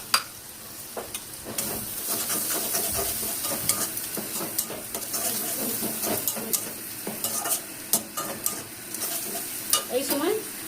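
Spices and ground poppy-seed paste fry and sizzle in a pan while being stirred, with steady crackling and scraping of the spoon against the pot throughout, close up with no voices.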